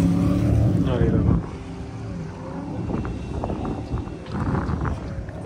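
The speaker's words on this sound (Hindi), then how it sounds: "वो देखो वो कितनी तेज़ वाली स्पीड बोट आ रही है, देखो बड़े बड़े इंजन लगा देते हैं, इसकी कितनी तेज़ आवाज आ रही है" A speedboat fitted with big engines speeds across a lake in Mississauga, Ontario, its steady engine drone carrying under nearby talk.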